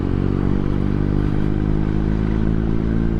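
A Benelli 502C motorcycle rolls along under engine braking, its engine giving a steady, dense rumble with a rough clattering texture, loud and close, with no talk over it.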